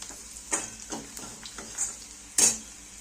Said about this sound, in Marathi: कांदा लाल होईपर्यंत चांगला भाजायचा बघा।